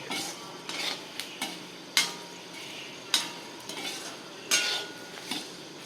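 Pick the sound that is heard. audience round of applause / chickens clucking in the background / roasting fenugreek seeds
roasting fenugreek seeds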